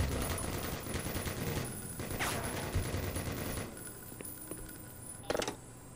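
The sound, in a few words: automated turret firing in video game Black Mesa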